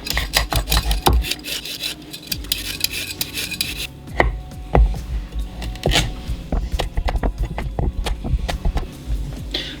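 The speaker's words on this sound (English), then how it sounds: "So I'm going to start with some carrots. I'm going to peel and then cut them up." Carrots being peeled and chopped for a roasted red pepper stew, heard as repeated close rasping scrapes and sharp knife knocks on a cutting board in an uneven working rhythm, with no talk.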